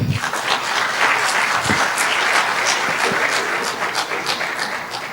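Audience applause at a graduation ceremony for foreign students in Béjaïa, a dense, steady clapping from a large crowd that fills the whole stretch at full loudness with no talk over it.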